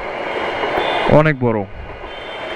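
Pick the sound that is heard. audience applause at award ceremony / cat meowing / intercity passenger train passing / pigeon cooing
intercity passenger train passing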